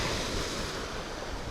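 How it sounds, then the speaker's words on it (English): Strong wind gusts at a Florida beach during a fishing trip, a steady roaring rush mixed with surf, buffeting the microphone with no letup and no voices. "That wind is getting crazy, y'all. The wind gusts."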